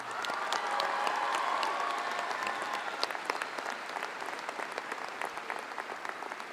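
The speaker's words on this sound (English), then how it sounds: "Please give them a round of applause." A large audience at the J.M. Hanks High School Class of 2014 graduation applauds award recipients, with dense clapping that starts full, then thins into scattered, distinct claps toward the end, with no talking.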